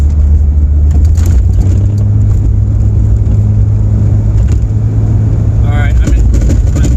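A Jeep XJ with new shift solenoids drives along, its engine and road rumble a loud, steady low drone as it shifts into fourth gear, with a person talking over it.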